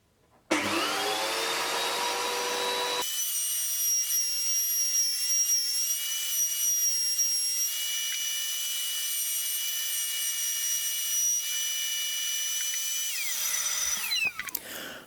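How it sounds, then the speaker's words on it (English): A router cuts through wood stock for a modular synthesizer stand, a loud, steady high whine starting abruptly and running continuously for about thirteen seconds before spinning down, close up with no talk. "the router bit is not high enough to go all the way through the stock"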